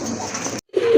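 Rajgolla pigeons coo close by, a steady throaty burr that breaks off for a short gap before another rounded coo resumes, loud and alone.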